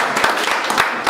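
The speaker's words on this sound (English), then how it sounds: "Oh, applause too for Richard." Short burst of audience applause for Richard during a community segment, dense steady clapping with a few louder individual claps standing out, close and fairly loud, no voices over it.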